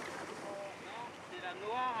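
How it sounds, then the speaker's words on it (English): Water and waves wash against a Star-class sailing boat during a European championship race, a steady broad rush mixed with wind buffeting the microphone, with faint voices underneath. "This is the water sound, yeah."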